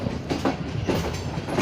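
Karakoram Express passenger train pulling into Khanewal Junction railway station in Pakistan, its wheels sounding a steady clickety-clack rhythm of repeated rail-joint beats over a continuous low rolling rumble, fairly close and loud.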